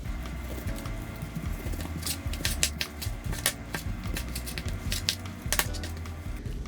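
Frozen raw meat being cut on a board while preparing pet food for a dog and cat: a steady run of crisp crunching, scraping and clicking strokes, close and continuous, with no talking.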